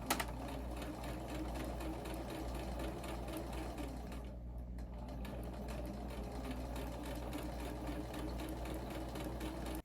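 A sewing machine runs steadily, stitching the side seam of a crocheted babydoll dress in one continuous whir, briefly easing near the middle before carrying on at the same close, even pace.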